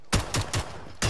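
Gunfire in PlayerUnknown's Battlegrounds: four loud, sharp shots spaced roughly a fifth of a second apart, each a hard broadband crack with a low thump, fairly close, with no voices.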